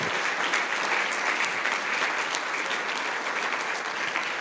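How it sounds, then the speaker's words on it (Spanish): A church congregation applauds steadily and loudly throughout, a dense, sustained wash of clapping from many hands with no pauses. "Démosle otro aplauso al Señor Jesús."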